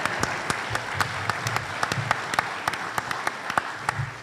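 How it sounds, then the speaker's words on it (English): An audience at a college athletics hall of fame induction ceremony applauds after a prayer, with steady, fairly distant clapping from a crowd and a few sharper nearby claps standing out. "You can clap for a prayer."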